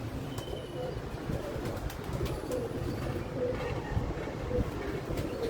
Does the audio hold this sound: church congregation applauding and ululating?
no